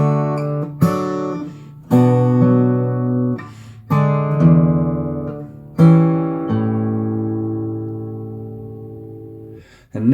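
Fingerstyle acoustic guitar plays two measures of a song, a series of plucked chords and bass notes in a slow, steady rhythm, close and clear, the last chord ringing out long, with no voices.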